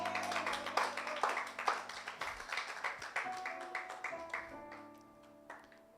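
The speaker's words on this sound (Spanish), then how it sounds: "¿Alguien le da un aplauso al Señor?" A church congregation claps during a worship service, with individual claps heard distinctly at first and then thinning out and fading by the end.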